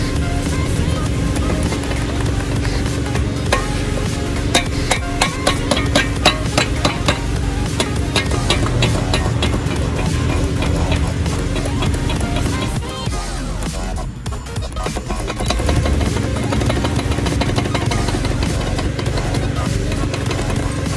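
A worn flywheel on a 2012 VW Passat with a DSG gearbox makes a loud, steady mechanical rattle and knocking over a running engine, with a brief dip partway through.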